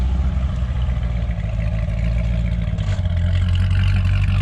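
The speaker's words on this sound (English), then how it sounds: "Valved exhaust? Hold on, it's a little loud." A Corvette Z06 with a valved exhaust idles with a loud, steady low rumble that holds throughout, with no talk over it.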